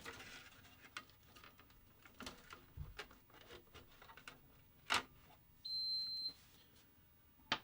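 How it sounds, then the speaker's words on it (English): A Verizon box battery unit gives a single short, high-pitched electronic beep. It is faint and sounds in a quiet room between soft taps and ticks. "Anybody else have a Verizon box that battery seems to go dead more than it's alive and beeps at you?"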